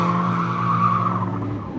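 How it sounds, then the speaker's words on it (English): Car tyres squeal in a sustained, loud skid during a high-speed drift at a drifting competition, a steady whining tone that holds for nearly two seconds with engine noise underneath. "It's not easy to control a high-speed drift"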